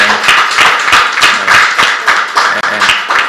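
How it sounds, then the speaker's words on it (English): People clap at an official visit by a customs chief to a state governor, a close, loud series of rhythmic claps in a regular beat, with a little speech in the room. "our way people are clapping"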